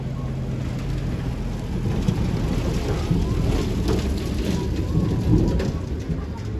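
Steady rain falls outdoors in a dense, even patter with a low rumbling undertone throughout, fairly close and continuous with no voices.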